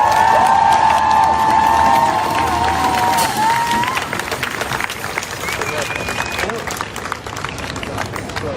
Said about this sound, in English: make some noise for Patrick Kimmons.